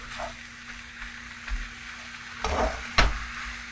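Crab and Chinese cabbage stir-fry in a pan with a steady soft sizzle, a low hum underneath, and a few scraping stirs and a sharp clank of the utensil against the pan.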